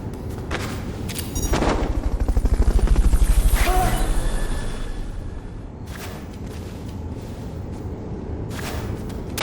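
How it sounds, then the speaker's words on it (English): Helicopter rotor sound from the Fulton recovery sequence in Metal Gear Solid Peace Walker on PSP, swelling loud around the middle and then easing back. Sharp game effects pop in and out, with no talking. "Fulton recovery subject confirmed onboard helicopter."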